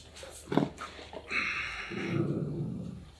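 Growling from animals at close range, with a sharp thump followed by a sustained low rumbling growl that lasts through the second half, alone with no talk.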